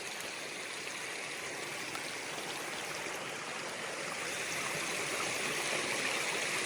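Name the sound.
small mountain stream flowing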